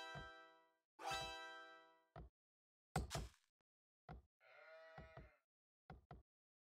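Sheep bleating in an Age of Empires match, several separate nasal bleats, some long and wavering, others short, clear and isolated against silence.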